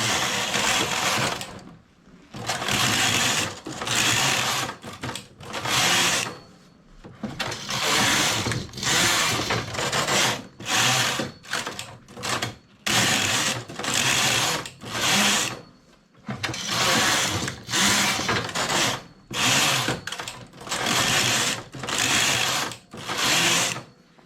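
A knitting machine works a lace-patterned bolero, its carriage making repeated rattling, ratcheting passes across the needle bed. Each pass is a loud burst of a second or two, separated by short silent pauses, with no talk.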